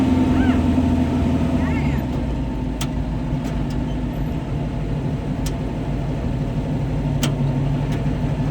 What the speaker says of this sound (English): That's no nitrous. That's just turbo.